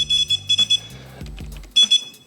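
Repeated short electronic beeps come from a warning add-on fitted to a Gotway MSS electric unicycle: a rapid run of close, shrill tones, then a low rumble and clatter, then two more beeps.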